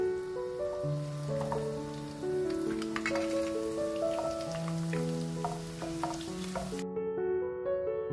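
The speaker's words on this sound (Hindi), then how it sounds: "अब मैं इसमें ये लहसुन डालूंगी" Garlic sizzling in hot desi ghee, a soft crackling fry under steady tonal music that fills the background.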